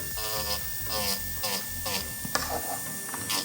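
An electric nail drill runs with a steady high whine throughout, under a person talking close by.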